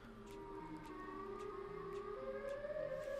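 A wailing, rising Siren Head siren tone from a Minecraft animation sounds faintly, with a few quieter background noises and faint tonal lines beneath it.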